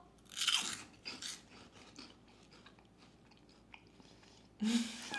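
An airy, light American snack is bitten and chewed close to the mic, with a couple of loud crunches at the start, quieter munching in between and another sharp crunch near the end, alone without talk.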